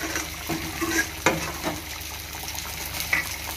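Fish fries in a pan for meen varuval, giving a steady close sizzle with stirring and scraping knocks throughout, and no talk.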